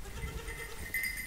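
Goats at a small farm bleat faintly amid low background rumble and movement, with a brief higher call near the end.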